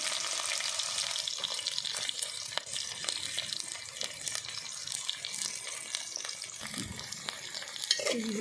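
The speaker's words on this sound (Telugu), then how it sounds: "ఆయిల్ మంచిగా కాగిందండి దీంట్లో కట్ చేసిన ఎల్లిపాయలు వేసేసుకున్నాము" Chopped onions dropped into hot oil for a mango mutton curry sizzle and crackle steadily throughout, with occasional stirring scrapes and clinks close by, no talking.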